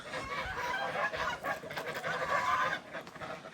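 Geese honk in a garden with a run of repeated, overlapping nasal calls at moderate distance, fairly quiet and with no talking.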